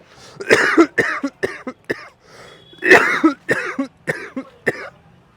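Harsh, repeated coughing close by, coming in several bursts separated by short pauses, with no talking.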